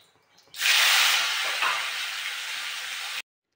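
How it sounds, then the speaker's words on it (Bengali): Tomatoes dropped into hot oil with cumin burst into a loud, close, hissing sizzle that holds steadily for nearly three seconds before cutting off abruptly. "জিরেটা একটু হয়ে গেলে আমরা টমেটোগুলো দিয়ে নিই।"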